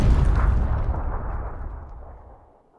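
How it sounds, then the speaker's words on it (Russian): A grenade blows up close by in PUBG, a heavy booming blast at the start whose rumbling tail fades away over nearly three seconds, with no voices. "гранату кидает"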